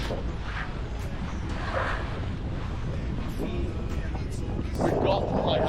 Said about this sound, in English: the wind started to pick up